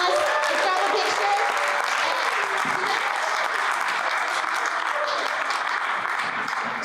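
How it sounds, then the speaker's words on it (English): A crowd applauds at a pitch competition, dense continuous clapping that stays loud and even throughout, with faint voices mixed in. "Let's do one more round of applause."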